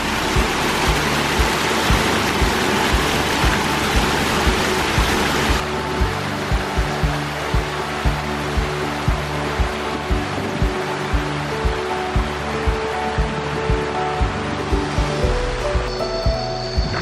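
Forest stream water flowing over rocks on Phu Quoc island, a steady broadband rush close by with no talk, continuous for the whole stretch.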